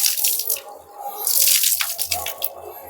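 Water trickles and splashes at a spring in a mountain cave in a secluded forest, a close, uneven flow with drips and gurgles, with faint voices in the background.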